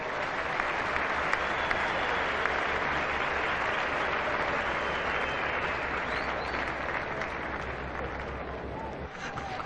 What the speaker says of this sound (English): stand up and applaud